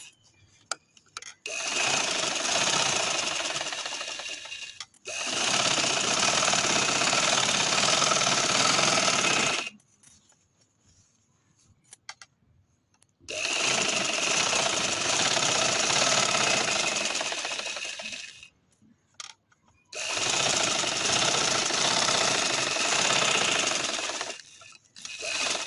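Sewing machine stitching a pillow cover: loud, close bursts of rapid mechanical whirring, three long runs of about four to five seconds each separated by quiet pauses, with no talk.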